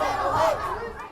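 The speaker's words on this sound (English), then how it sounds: "angry crowds gathered once again outside the 58-story Trump Tower" Angry protest crowd gathered outside the 58-story Trump Tower in New York, a dense wash of overlapping voices and chatter, steady and fairly loud throughout with no single voice standing out.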